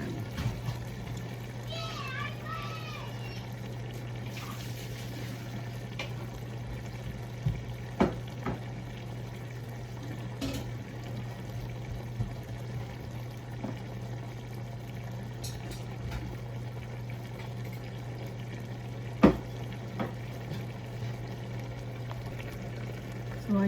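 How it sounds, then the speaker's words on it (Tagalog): Squid and tomato simmer in a pan with a steady low bubbling hiss, a few faint clinks over it, while a person talks now and then. "Pakuluan pa natin mga mamshi ng 2 minutes"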